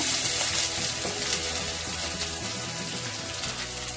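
Chopped onion fries in a pan with steady, loud sizzling and crackling that stays dense and unbroken throughout, heard up close with no voice.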